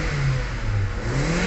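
A car engine, a Kia, Hyundai or Toyota compact, runs at a steady normal RPM after a fuel pump repair, with a smooth, continuous hum close by and no voices.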